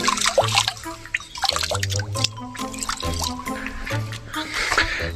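River water trickling and dripping over rocks in a jungle, a lively close gurgle of small splashes and drips heard on its own.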